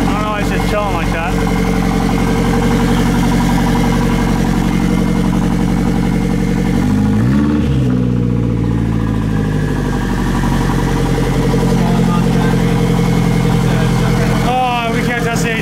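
A turbocharged Nissan Silvia engine runs at a steady, close idle, its low rumble briefly shifting in pitch about halfway through before settling back into an even drone.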